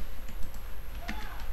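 Fingers typing a filename on a computer keyboard, a quick run of close, crisp key clicks over a short stretch with a faint steady hum behind.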